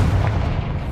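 Confringo blasting spell exploding in the video game Hogwarts Legacy: a heavy, close boom with deep low rumble that fills the whole moment and rolls on without a break.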